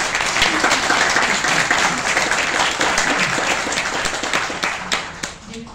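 Audience applause fills the room at a Chilean book launch on the history of comics, steady dense clapping from many hands for several seconds before tapering off slightly at the end.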